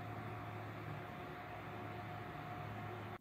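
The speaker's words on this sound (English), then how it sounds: "the noise you can hear is next door's air conditioner" Next door's air conditioner runs as a steady, faint broadband hum with a low drone, constant throughout and heard alone in a house in Australia.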